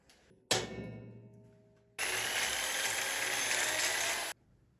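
A power drill bores a hole through a metal bolt, a loud steady whine lasting about two seconds, preceded by a sharp metallic clank that rings and decays; no talking.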